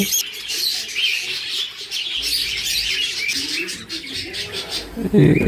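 Dense, busy chirping from budgerigars packed into a carrying cage, continuous and close, with overlapping high tweets throughout.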